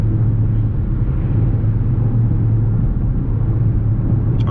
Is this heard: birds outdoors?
no